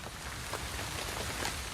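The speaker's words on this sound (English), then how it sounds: "In the night, rain begins to fall." Rain falls at night in a steady, even patter with no break, faint and diffuse, with no voices.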